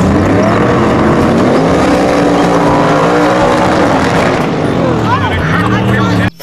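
Toy race car with a steady, loud, buzzing engine-like whine that rises and falls in pitch throughout, heard close up with people talking over it.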